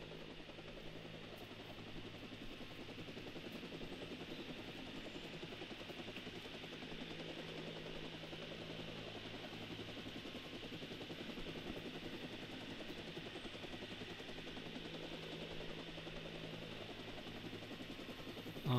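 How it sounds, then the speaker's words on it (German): A helicopter's rotor drones steadily throughout in the video game Watch Dogs, a continuous whirring engine noise at moderate distance with no talking. "Zumal der Heli gerade dreht."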